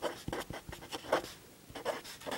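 Pen on paper writes out derivative notation in quick, irregular scratchy strokes, close and faint, with short pauses between bursts.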